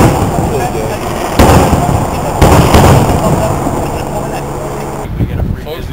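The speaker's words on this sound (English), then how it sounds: "Every night, right over here, Disneyland fireworks going off for free." Disneyland fireworks burst at night over Anaheim, heard from a nearby motel: two strong booming blasts a second apart amid a continuous rumbling crackle, with a sharper pop near the end.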